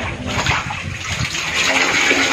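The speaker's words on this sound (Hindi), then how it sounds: "ये निकालने से ये सारा का जो सारा पानी है बिल्कुल बाहर आ जाएगा" Water gushing and draining out of a household water tank as it is emptied for cleaning, a steady continuous rushing flow throughout.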